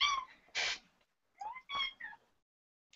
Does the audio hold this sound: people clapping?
no